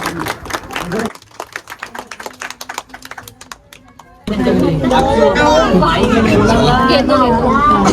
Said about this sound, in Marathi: तर जोरात टाळ्या वाजवायच्या सगळ्यांनी।